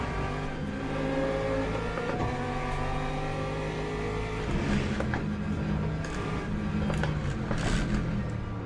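Engine of a McLaren race car in Le Mans Ultimate, a steady loud drone with a layered harmonic whine that shifts in pitch as revs climb and fall, near and continuous with no talk.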